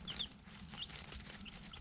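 A brooding hen named Candy, puffed up over her chicks, gives a few soft clucks and faint peeps at a low, quiet level, with no voices.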